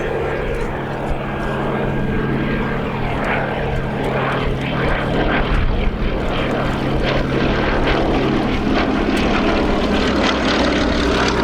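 A Westland Lysander propeller aircraft flies at Shuttleworth, Old Warden, its piston engine droning loud and steady throughout with a broad, continuous roar.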